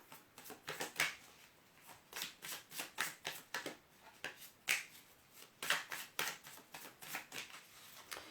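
A tarot card deck with stiff cards that slide poorly against each other is shuffled by hand, producing a quick series of soft riffling snaps and flicks, close and quiet, with no talking.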